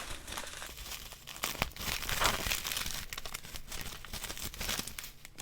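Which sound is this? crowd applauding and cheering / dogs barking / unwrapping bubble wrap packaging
unwrapping bubble wrap packaging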